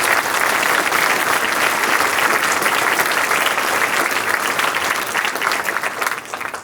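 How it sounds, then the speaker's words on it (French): Loud, dense applause from an audience at a mayor's New Year address in a hall, continuous clapping at close range lasting several seconds before easing near the end. "je crois qu'on peut les applaudir ce soir très fort"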